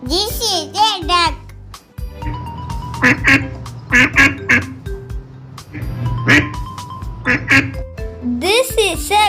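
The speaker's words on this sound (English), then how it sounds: "This is a duck." Domestic duck quacking in several short, loud bursts across the clip, with a voice talking near the start and end.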